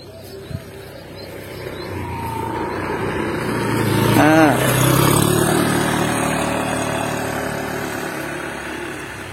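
A motorcycle passes along a path by rice paddies, its engine rising as it approaches, peaking close by and fading away, while people talk.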